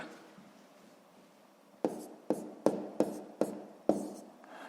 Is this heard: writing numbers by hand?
yes